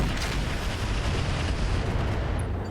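Mech weapons firing on a Black Knight in the RogueTech battle game, a dense continuous roar of booming explosive fire that stays loud and unbroken throughout, with no voices.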